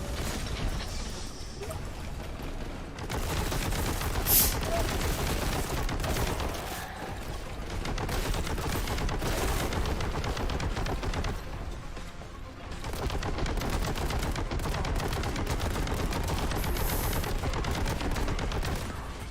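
Gunfire in Warhammer 40k: Boltgun, a rapid stream of mechanical clattering shots and ratcheting weapon noise over a dense game soundscape, continuous with brief dips, fairly quiet overall.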